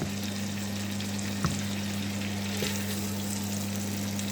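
Pieces of beef liver fry in a pan with a steady, even sizzle and a low hum underneath, broken by a couple of faint ticks.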